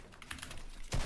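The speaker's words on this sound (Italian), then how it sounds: "sentire il rumore della tastiera è meraviglioso" Quick computer keyboard typing, a short burst of close, crisp key clicks ending in a louder clack, with no voices.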